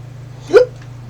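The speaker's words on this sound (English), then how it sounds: "Apparently beans give me the hiccups." A single short hiccup, close and fairly loud, rises briefly over a steady low electrical hum in a quiet room.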